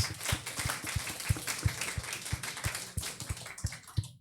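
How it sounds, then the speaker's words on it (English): Audience members applaud themselves at a gathering, a faint, thin round of clapping with a few distinct hand claps repeating at a quick, fairly regular beat. "Give yourselves a round of applause"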